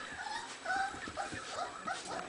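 Five-week-old Border Collie and McNab puppies whimper and yip in soft, high, repeated cries, fairly faint and close together, with no talking.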